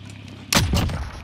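A single loud gunshot fired in Call of Duty: Modern Warfare, a sharp near blast with a booming tail and a quick second report fading out, after a quiet stretch.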